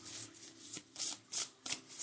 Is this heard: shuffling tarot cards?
yes